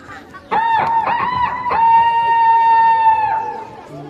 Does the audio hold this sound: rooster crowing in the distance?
yes